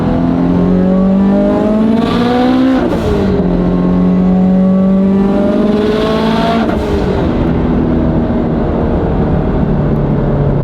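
A 1,000 whp Subaru STI in sport mode, loud and close, engine revving up in rising sweeps, dropping at the shifts, then climbing again under hard acceleration, with a strong droning roar throughout and no talking.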